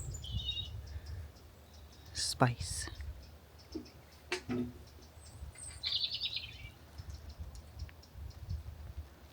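Birds chirp intermittently in woodland on a homestead in Ireland, short faint calls scattered among low background noise, scattered clicks and a person talking.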